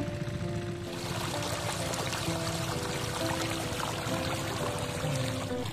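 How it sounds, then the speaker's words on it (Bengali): Water gushes steadily from a shallow pump machine's pipe into a pointed gourd field, a continuous rushing pour over the constant droning hum of the pump engine, close and loud throughout. "পাইপ নিয়ে জমিতে দিচ্ছে জল।"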